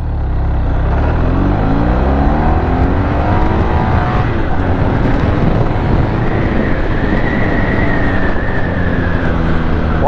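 A car accelerating hard, its engine note rising and revving loudly with a continuous rough roar from inside or near the vehicle, climbing in pitch across the gears without a break.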